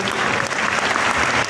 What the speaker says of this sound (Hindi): तो एक बार ऑनरेबल चेयरमैन साहब के लिए जोरदार ताली हो जानी चाहिए।